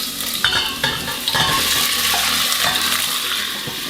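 Meat and onions hitting hot sunflower oil for a beans stew, bursting into a loud, dense, steady sizzle close by, with a few clattering knocks early on.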